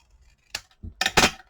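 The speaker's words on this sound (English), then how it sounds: "Grab your scissors and just cut a triangle" Scissors cutting a triangle out of paper for a handmade tag: a few quick, crisp snips close by, the last two louder, with no talking.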